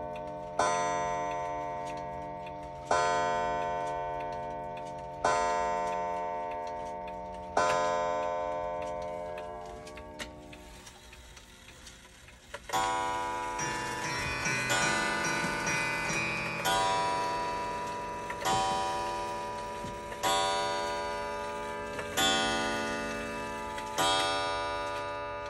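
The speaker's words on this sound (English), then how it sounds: "Yeah, that's the Tempest Fugit." A Tempus Fugit clock chimes a slow series of ringing, bell-like strikes, each fading out before the next, with a brighter run of layered tones in the second half.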